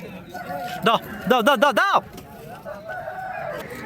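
A rooster crows loudly and close by in a Vijayawada poultry market, one harsh broken call at the center of the clip, with talk before and after it.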